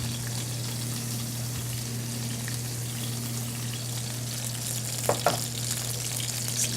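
Onion and peppers fry in a pan for hash, giving a steady soft sizzle over a constant low electrical hum, with a couple of brief clinks from stirring near the end.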